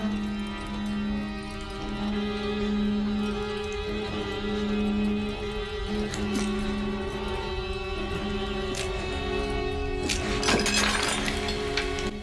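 Silverware clinking against plates in a film soundtrack, distorted so it resembles shattering glass; a steady drone underneath as the clatter grows denser and louder, peaking in sharp bright crashes near the end.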